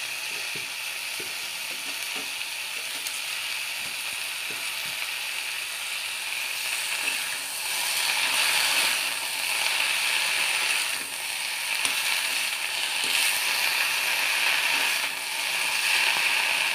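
Chopped bottle gourd shoots sizzle loudly in a hot pan of oil for a fish curry, a steady close crackle that swells louder partway through, with no voices.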